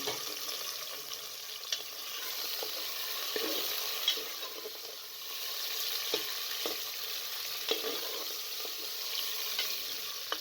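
Steady sizzling of meat frying with garlic and ginger in a hot pan, with occasional stirring scrapes and pops, close and continuous.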